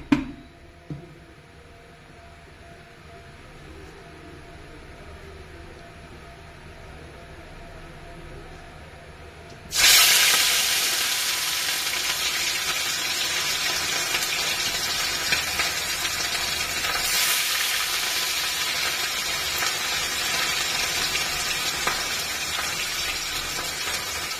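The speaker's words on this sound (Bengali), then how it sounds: "মাছগুলো একে একে ভেজে তুলে নিচ্ছি, খুব বেশ কড়া করে ভাজবো না।" Fish frying one by one in hot oil in a wok, a steady close sizzle that starts abruptly partway through and then holds loud and even, with only quiet background before it.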